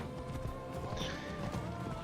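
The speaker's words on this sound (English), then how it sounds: "Why is he so much faster? Fucking horse, go faster!" Horse galloping in Assassin's Creed Odyssey: a quiet, steady clip-clop of hooves running through the whole short stretch under game ambience, with no talk.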